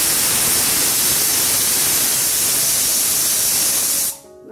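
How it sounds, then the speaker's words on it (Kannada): A pressure cooker whistle vents steam in a loud, steady hiss that lasts about four seconds and then cuts off abruptly. "ನೋಡಿ ಮುದ್ದೆ ಆಗೋಷ್ಟರಲ್ಲಿ ಕುಕ್ಕರ್ ವಿಸಲು ಆಯ್ತು."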